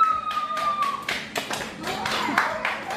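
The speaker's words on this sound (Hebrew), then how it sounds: "איזה מחיאות כפיים מגיע לך" Audience applause for a world-champion ball-heading juggler comes as scattered claps and a short patter of hands, with a voice talking over them.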